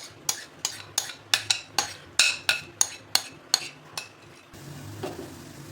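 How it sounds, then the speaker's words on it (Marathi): Grated raw mango pulp going into a heated kadhai, heard as a quick series of about a dozen sharp scraping clinks of a spoon on metal, close and even, followed by a faint soft sizzle. "त्यामध्ये आपण कैरी ही बारीक करून घेतलेली ती घालायची"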